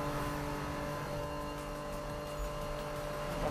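A BMW M3 GTR race car engine in Need for Speed 2015 holds a steady droning tone under acceleration, with a constant hum of engine harmonics and no talk.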